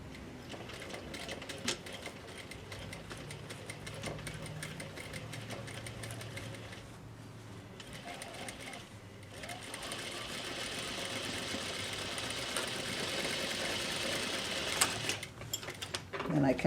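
A sewing machine stitches a zipper and waistband into a pair of jeans in bursts of close, rapid mechanical whirring, with a person talking quietly over parts of it.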